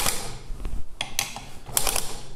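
Several sharp metallic clicks in quick irregular succession from the individual firing pins of an M134 Gatling machine gun, close and crisp, with no voices.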